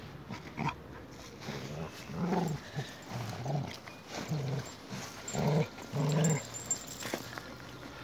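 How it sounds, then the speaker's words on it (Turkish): A small pet dog belonging to a neighbourhood headman makes a series of soft growls and whimpering vocal bursts, close by and moderately loud, with no talk over them. "Onur mahallemizin sayın değerli muhtarımızın şirin köpeği Alfa."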